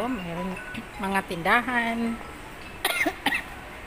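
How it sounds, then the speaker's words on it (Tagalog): A person coughs a couple of times in short bursts amid a shop setting, with someone talking just before the coughs. "May ubo ako."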